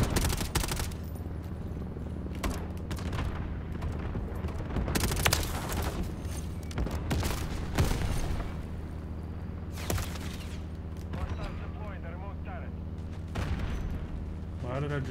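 Gunfire in Call of Duty Modern Warfare 3 multiplayer: repeated bursts of automatic shots and sharp cracks, some booms, over a steady game background hum, spread unevenly through the stretch.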